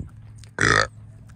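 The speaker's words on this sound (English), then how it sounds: "a little burp." A single short, close burp from a person outdoors on a neighborhood walk, lasting about a quarter second against quiet background noise.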